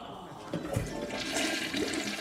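A toilet flushes in a workplace bathroom, a loud rushing gurgle of water that swells and churns steadily, heard alone without talk.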